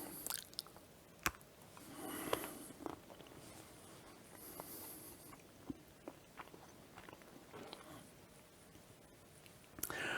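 Someone bites into and chews a homemade chocolate peppermint patty, giving soft close crunches and moist chewing with a few sharper bites scattered across the stretch in a quiet room.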